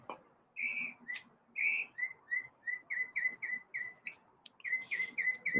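A pet bird named Chirpy whistles and chirps in a quick run of short, bright, near notes, several longer whistles giving way to a steady string of clipped chirps.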